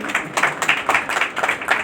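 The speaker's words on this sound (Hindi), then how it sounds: "ताली बजाइए अपने लिए।" An audience claps together at a talk on stress-free living, a brief burst of fairly loud, evenly paced applause.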